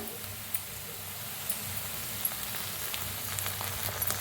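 Roasted corn kernels for a chilli dish sizzle and crackle softly and steadily in a pan, with small pops now and then.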